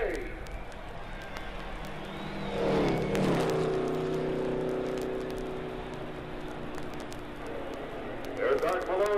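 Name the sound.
race cars at the 1963 Indianapolis 500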